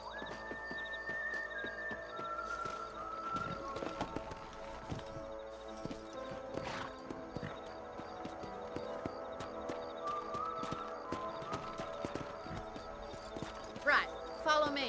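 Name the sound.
horse riding and hoofbeats in Red Dead Redemption video game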